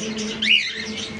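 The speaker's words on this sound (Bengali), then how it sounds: "বন্ধুরা এটা আমার হ্যান্ড ফিটিং পাখি আছে" A hand-tame cockatiel gives one close, harsh squawk that bends in pitch, over a steady background hum.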